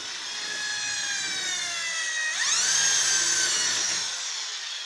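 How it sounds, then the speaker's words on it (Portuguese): An electric drill bores a small hole in a plastic agitator from an Electrolux washing machine, giving a close, steady high whine that shifts pitch midway as the bit bites. "Fazer um buraquinho com a broca,"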